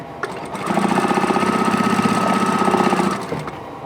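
A sewing machine stitching quilt block pieces together, a close, rapid, even rattle of the needle running for about two and a half seconds before stopping.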